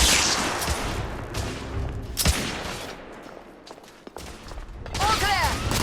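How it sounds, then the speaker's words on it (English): Suppressive gunfire in The Order: 1886, with rapid bursts and single shots cracking out over several seconds, one sharp loud report standing out, then a brief lull before the shooting resumes; voices are heard alongside. "lay down suppressive fire!"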